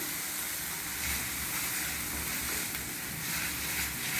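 Faint, steady sizzle of a ketchup and masala mixture being stirred in a hot pan for butter masala bread toast, a soft continuous hiss with low rumble and no voices.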